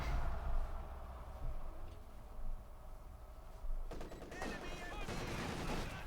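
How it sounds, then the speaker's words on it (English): Machine-gun fire rattles through a Company of Heroes 2 battle between armies, rapid bursts growing denser and louder in the second half over a dense battlefield din. "Machine gun versus machine gun."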